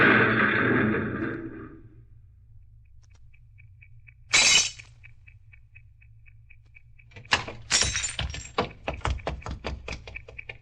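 A vehicle swerves toward the curb and smashes into the rear of a parked car: a rumbling approach fades, then a loud sharp crash, followed by a burst of shattering, tinkling glass and scattered debris clinks, with no talk.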